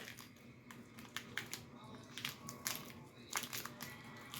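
Masking tape is torn and pressed down while shaping a taped figure, giving close, quiet crinkling and sharp ripping bursts over a low background, with no clear talking.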